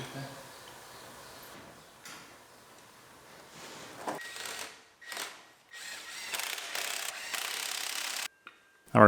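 A ratchet clicks in short bursts as the driver's side of a GMC Yukon frame is bolted onto the studs in a garage, the mechanical ratcheting close with pauses in between.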